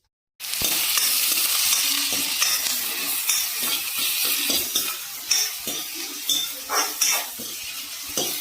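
Onions and green chillies frying in a home kitchen pan, a steady bright sizzle that starts abruptly after a moment of silence, with scattered clinks and scrapes of a utensil against the pan, close and fairly loud.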